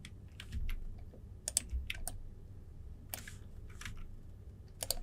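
Keyboard keys and mouse buttons click in scattered bursts while someone models a 3D plant in Blender. The taps come in quick clusters separated by pauses, close and crisp over a faint low background hum, with no talking.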